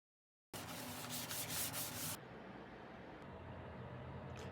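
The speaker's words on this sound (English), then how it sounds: "You've definitely been sanding, boy." Wooden coffee tables being sanded, a dense, close scratchy rubbing that starts abruptly, stays loud for under two seconds, then drops to a quieter, steady grind.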